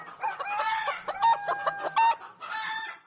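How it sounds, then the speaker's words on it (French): Farm hens cluck loudly and close by, a busy run of repeated throaty clucks and rising squawks that continues with short gaps and no voices. "plein de poules qui gloussent"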